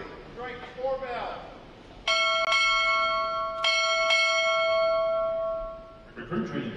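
A ship's bell rings out at a U.S. Navy recruit graduation ceremony, two pairs of clear struck strokes with long ringing decay in a large hall, and a voice speaks briefly before and after.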